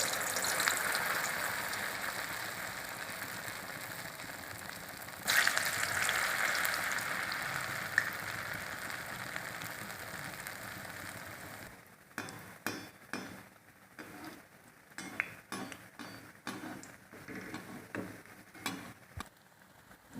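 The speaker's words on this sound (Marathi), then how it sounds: "कढईतलं तेल आपलं आता गरम झालं आणि वडा सोडून घेते" Dahi vada batter dropped into hot oil in a kadhai, giving a steady sizzling hiss that surges at about five seconds when more vada goes in, then breaks into scattered crackles and clinks.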